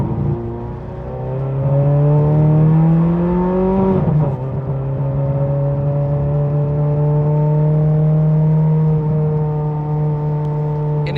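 A Ferrari 430 tuned to 777 hp holds a steady, loud engine note, its pitch rising slightly, then dipping sharply in a quick blip before settling back into a sustained drone, with no talk over it.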